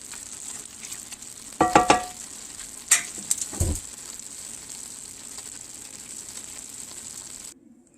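Ground beef sizzling in a pan for a keto meal prep, a faint steady hiss broken by a few sharp scraping stirs and clatters, then cutting off abruptly.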